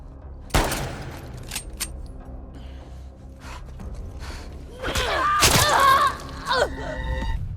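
Gunfire in The Last of Us Part II survival mode, a sharp nearby shot followed later by a dense burst of shots and clattering mechanical sounds, with faint game ambience between.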